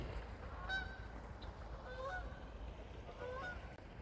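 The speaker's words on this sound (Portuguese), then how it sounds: "Os gansos canadenses voltaram." Canada geese honking outdoors, with several calls repeated at a moderate distance over a steady low rumble of background noise.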